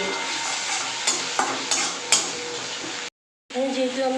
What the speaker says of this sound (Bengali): আবার নেড়ে নেব।